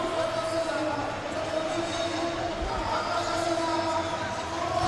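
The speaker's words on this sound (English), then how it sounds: "Enthusiastic crowd here, seeing the world's greatest all in one stadium on this one day" Large crowd murmuring and cheering steadily throughout a packed stadium at the 2016 Rabat Diamond League athletics meeting after the women's 5000m, a continuous broad wash of voices with a tonal hum beneath.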